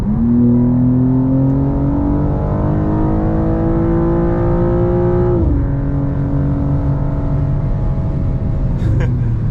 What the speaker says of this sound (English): I let up on the throttle, which is why it revved like that